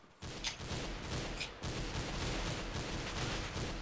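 Deagle pistol fire in the CS:GO Zombies mode, a dense stream of overlapping gunshots and chaotic combat noise running steadily from start to finish with no voices.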